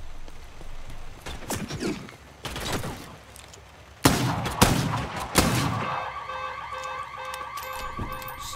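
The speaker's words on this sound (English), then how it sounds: "Other guy's shooting from here." Gunfire from another player in the video game Bloodhunt crackles in scattered bursts, with sharp loud shots near the middle and an alarm-like tone trailing at the end.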